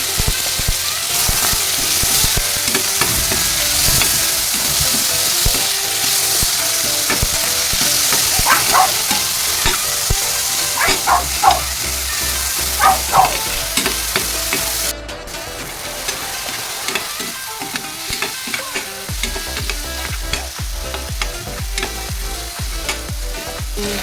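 Onions and tomatoes sizzle loudly in a hot pan while being stir-fried, with continuous crackling, occasional scraping stirs and a brief drop in intensity midway.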